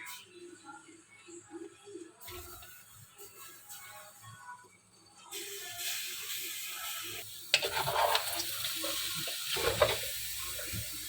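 Chopped cabbage and carrots tipped into a quick mixed achar masala and stirred: quiet clinks at first, then louder, steady rustling and scraping of a spoon through the wet, spiced mix.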